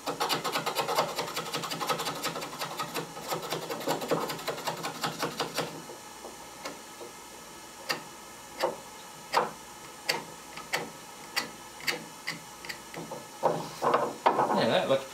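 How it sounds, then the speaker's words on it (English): A jackknife scrapes excess material off a repaired vise handle in a workshop: a few seconds of dense rasping, then a series of sharp, separate scraping strokes and ticks at an irregular pace, close and fairly quiet. "Using my jackknife as an improvised scraper"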